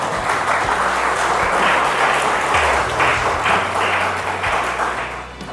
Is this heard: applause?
yes